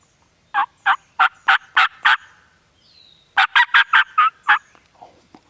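Wild turkey gobbling during a spring hunt in Kentucky: two loud, close bursts of rapid rattling gobble notes, about six pulses each, separated by a quiet pause with faint rustling after.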